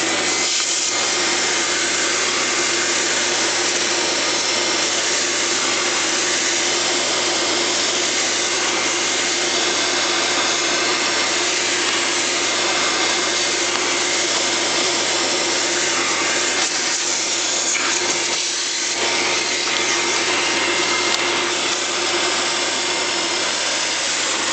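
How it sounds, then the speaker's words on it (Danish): A vacuum cleaner runs continuously at close range, sucking dirt from inside an opened device, a loud, steady roar with slight shifts in tone as the nozzle moves around. "Og støvsuger igen"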